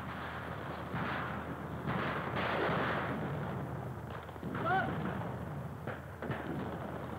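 Distant gunfire and artillery booms rumble through a dense, noisy background, with scattered bursts and blasts rising and falling over several seconds.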